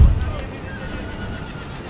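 Cavalry horses neigh in an Empire: Total War battle (Darthmod, Ottoman Empire campaign), with a loud whinny at the start that fades into a steady rumble of battlefield ambience.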